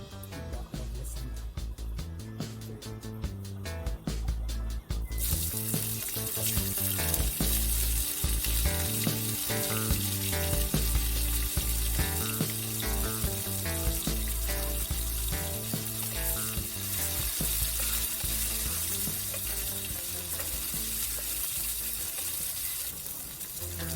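Pimento seeds sizzling in hot frying oil, a dense continuous crackle and hiss at close range, preceded by a few seconds of sharper popping and clicks.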